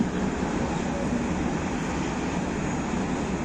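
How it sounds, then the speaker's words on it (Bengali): A steady, heavy rumble and rush of a train rolling past nearby in Sitakund, Bangladesh, constant and loud throughout with no voices. "উই দেখেন যে ট্রেন যাচ্ছে"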